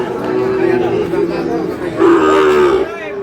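A Sahiwal bull calf at a Bogura livestock market gives a long, loud, close moo, then a second rising bellow, with faint crowd chatter underneath.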